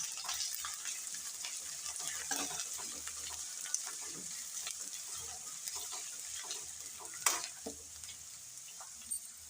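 Crushed green chillies stirred in a frying pan, a soft steady sizzle with light scraping strokes, fairly quiet and close, no voices.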